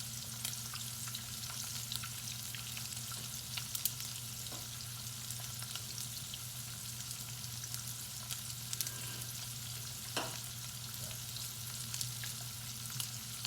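A ribeye steak fries in a pan with steady, close sizzling and frequent sharp crackles and pops, heard alone without voices throughout.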